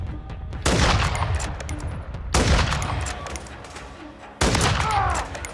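Bursts of gunfire from the Call of Duty MW3 video game on PS5, three loud volleys of rapid shots separated by short pauses, each dying into a rumbling tail.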